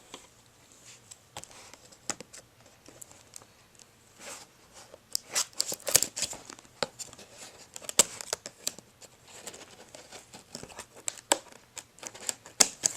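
Scissors cut through the packaging of a Nintendo 3DS box, a string of irregular crisp snips and crinkly rustles, close and moderately loud, growing busier toward the end.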